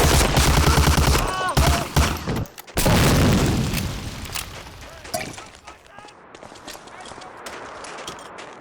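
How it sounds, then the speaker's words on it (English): Grenade blasts and bursts of gunfire from the video game Medal of Honor Warchest, loud booms and rapid shots packed into the first few seconds, then fading to a quieter rumble with a voice speaking over it. "Throwing grenades down here"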